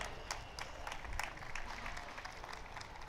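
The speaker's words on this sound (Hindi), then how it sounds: "तो श्रीमान चक्रेश जी जैन का जोरदार तालियों से आप स्वागत करें।" An audience applauds to welcome Chakresh Jain at the Vidhan Sabha Mahavir Janam Kalyanak Mahotsav, a soft, steady patter of many hands that sounds distant and fairly faint, with no voices over it.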